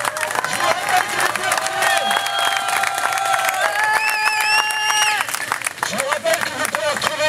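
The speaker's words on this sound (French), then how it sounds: "On peut vous applaudir, vous pouvez vous applaudir." Crowd at a motorcyclists' rally (FFMC 28 demonstration, October 2010) claps and cheers for several seconds in a dense, loud wash, with whistles and a voice over it near the end.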